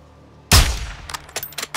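A single loud sniper rifle shot bursts out in Call of Duty Modern Warfare 2's campaign, then rings off into a decaying tail dotted with a few quieter, sharp follow-up clicks and impacts.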